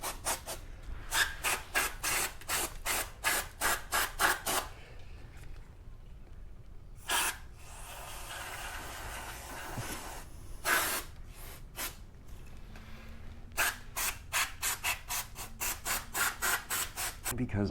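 Repeated bursts of aerosol brake cleaner sprayed on the brakes of a Gen6 Camaro SS 1LE, short hisses in quick succession, a longer continuous spray in the middle, then more rapid spurts, close by.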